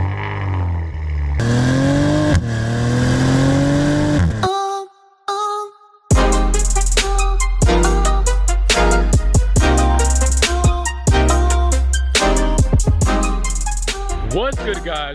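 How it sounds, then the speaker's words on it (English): Twin-turbo V6 of a 2019 Maserati Levante revving hard, loud and close. Sustained rising engine notes break for a brief near-silence, then a rapid series of sharp blips and pops follows. "there's just nothing like this twin turbo V6 that comes out of the Maserati."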